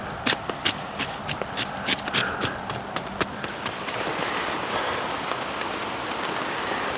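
Rain falls in the woods under cover, with irregular sharp drops striking a surface close by over a steady, moderate patter that thickens toward the end.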